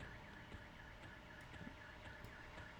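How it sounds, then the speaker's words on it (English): Somewhere outdoors a car alarm sounds faintly in the distance, its repeating electronic whoop cycling over a low background hum, with no talking. "Now a car alarm's going off."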